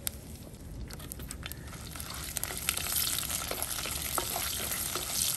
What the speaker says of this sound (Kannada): ಸಾಸಿವೆ ಒಡಿತಾ ಉಂಟು.